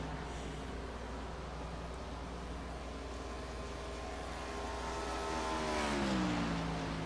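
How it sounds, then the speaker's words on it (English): Race car at full throttle in an ARCA series sim-racing video game, a steady buzzing engine drone that swells and shifts pitch near the end, with no talk. "Joshua Reese in that number 1 continues to hammer down as he crosses the stripe."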